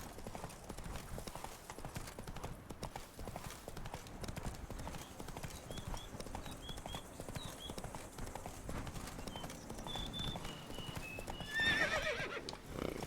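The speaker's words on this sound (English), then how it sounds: "Run, Roach." A horse gallops in the video game Witcher 3: Blood and Wine, with steady rapid hoofbeats throughout, a whinny near the end and light game ambience behind.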